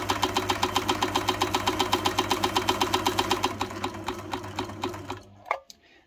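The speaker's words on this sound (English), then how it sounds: "So if you disengage the little clutch, the motor will freewheel." A pedal-controlled electric motor with a small disengageable clutch runs steadily, giving a rapid, even, mechanical pulsing up close that continues for several seconds before cutting off with a brief clunk and near silence.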